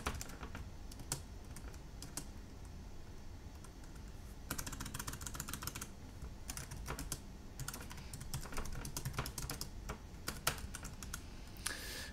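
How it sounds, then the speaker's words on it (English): Rapid typing on an iPazzport Slim Mini backlit mini keyboard, heard as a quiet, close stream of soft, slightly jelly-like key clicks in uneven bursts, with no talking. "I'm just going to type something in here just to test it out."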